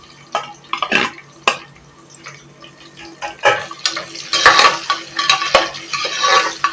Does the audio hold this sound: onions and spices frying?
yes